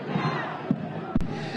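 Crowd noise at a Black Lives Matter protest in Durham with young people and families, a brief murmuring mass of voices punctuated by a couple of sharp louder shouts, heard at a modest distance.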